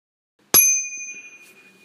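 A bicycle bell fitted to the base of a table cricket game's wicket gives one sharp, close ding, and the bright metallic tone rings on and slowly fades.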